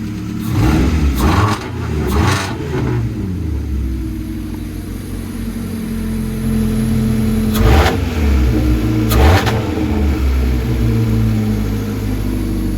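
A twin-engine all-wheel-drive Hyundai Getz, just fitted with a throttle cable, revs loudly and close up. Sharp throttle bursts come early and again near the end, over a steady running drone.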